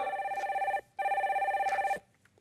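Two loud electronic telephone rings in a TV studio as a caller is patched through, each burst a rapid trilling tone just under a second long with a short gap between, then quiet.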